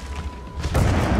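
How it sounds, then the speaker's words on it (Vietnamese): A tank cannon in the World of Tanks video game fires a single deep, heavy boom that rolls out and fills the rest of the moment after a quieter lead-in. "Đồng đội ở vùng trung tâm đang bắn vào"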